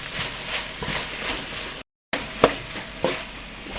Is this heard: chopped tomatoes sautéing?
yes